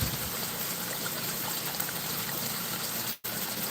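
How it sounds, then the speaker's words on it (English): A creek beside a new garden pond flows steadily with a dense, loud, close rushing wash that continues without a break, apart from a brief dropout near the end. "Right beside the creek."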